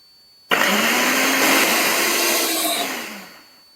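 A mixer grinder blending aloe vera whirs loudly and steadily for about three seconds, starting abruptly, then winds down as the motor slows.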